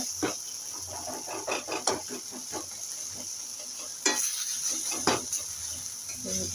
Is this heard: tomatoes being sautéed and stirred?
yes